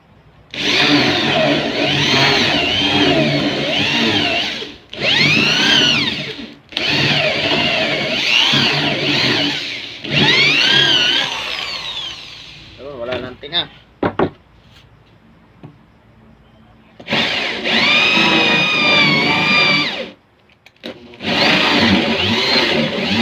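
A hole saw cuts an opening for a Speakon connector, giving several loud whining bursts of drilling separated by short pauses, with some rattling and handling clatter in a quieter gap midway before the cutting resumes.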